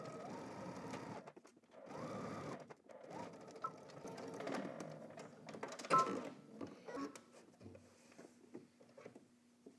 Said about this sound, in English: we're going to back stitch at the beginning and then also at the end using 3/8 of an inch seam allowance